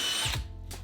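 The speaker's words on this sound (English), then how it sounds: "After drilling the holes in the mounting block," Power drill boring holes into a wooden mounting block made from an offcut of 5/4 trim, a short burst of whirring that winds down and stops, close and alone.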